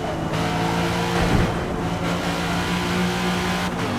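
A Chevrolet Chevelle Super Sport V8 racing in a driving game, its engine roaring continuously at high revs with slight pitch shifts, loud and steady throughout.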